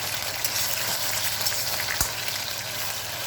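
Thinly cut beef frying over high heat in a pan, a continuous close sizzle and crackle that holds steady throughout with no talking.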